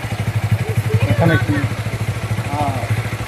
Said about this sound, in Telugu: సైలెన్సర్లో ఏదైనా సౌండ్ వేరే సౌండ్ వస్తుంది అని అడుగుతున్నా.